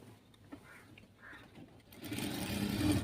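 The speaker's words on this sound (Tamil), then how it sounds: "அந்த 1 இன்ச் வந்து நம்ம வந்து ப்ராப்பராக ஸ்டிச் பண்ணிட்டுருக்கோம்." A sewing machine stitching a side pocket starts up after quiet handling noises and runs in a steady, moderately loud whir near the end.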